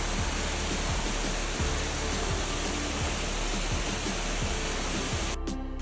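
Toorongo Falls roaring as a steady, loud wash of falling water in the Australian countryside, continuous and close with no breaks, while faint low thumps tick beneath it.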